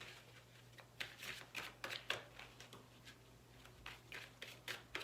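A tarot card deck is shuffled by hand in a quiet room, giving a run of soft, papery riffling bursts in an uneven rhythm, close and fairly faint, with no talking.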